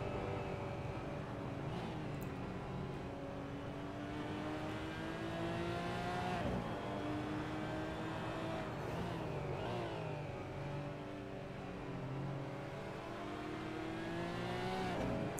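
GT4 race cars lapping Imola in a sim racing game, a continuous loud engine drone with rising and falling gear pitches and occasional tire squeal, no voices over it.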